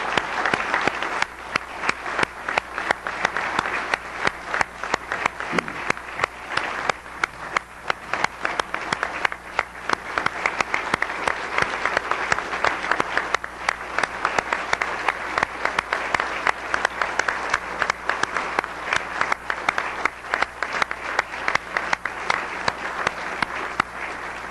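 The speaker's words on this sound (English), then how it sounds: "Can we please give them a warm round of applause for their service and their sacrifice?" A luncheon audience at the National Press Club gives wounded service members a long, sustained ovation, a dense wash of clapping that holds steady throughout.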